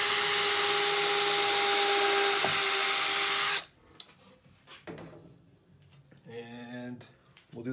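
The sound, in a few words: power drill drilling holes and driving screws into picnic table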